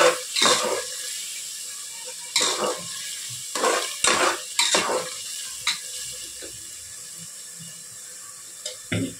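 Ration rice with spinach frying in a pan for palav, stirred in a few scraping bursts over a soft continuous sizzle; it is close, with longer quiet stretches later and no speech.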